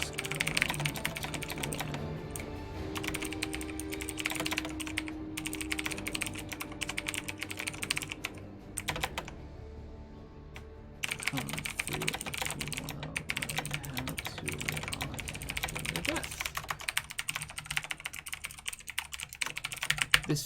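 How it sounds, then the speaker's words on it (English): Rapid typing on a computer keyboard, a dense continuous clatter of keystrokes that pauses briefly midway and resumes at a fast pace. "I'm gonna type real fast."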